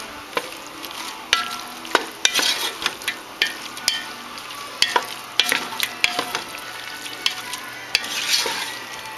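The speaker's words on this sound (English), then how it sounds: "I'm going to add that, and then stir it up." Tomatoes, some in whole slices, sizzle in a hot pan while a utensil stirs them, with a steady frying hiss broken by repeated scraping strokes and clicks, close and clear, no voices.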